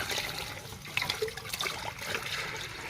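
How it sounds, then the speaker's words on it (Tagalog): Tap water pours into a pot holding cans for dulce de leche, meant to rise over the cans before pressure cooking; a steady splashing gush with gurgling surges, close and continuous, no talking. "Tutubigan po natin yan. So dapat po ang tubig, lampas po sa mga lata"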